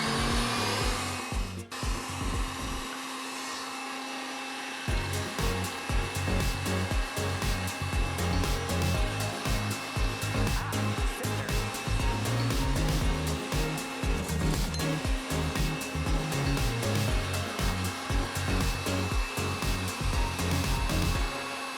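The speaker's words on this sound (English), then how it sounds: "Slowing down the mixer as I add the sugar" Electric stand mixer whipping meringue with icing sugar added, a steady loud motor whir with rhythmic churning, briefly dipping at the start before running continuously at lower speed.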